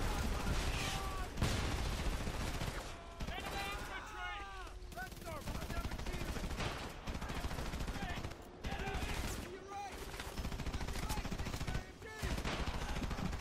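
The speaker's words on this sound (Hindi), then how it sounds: "भाई फिर कोई स्नाइपर मार रहा है यार" Sniper and automatic gunfire in a war video game set in a graveyard, repeated shots and bursts at moderate level, with someone talking over the combat throughout.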